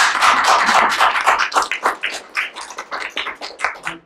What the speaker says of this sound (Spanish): Queremos un aplauso de bienvenida, hermano.